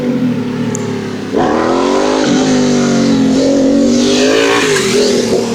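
Cars rev hard at an underground motorsport event on a bridge, engines climbing and dropping in pitch through overlapping loud rasping pulls, close and continuous with no talking.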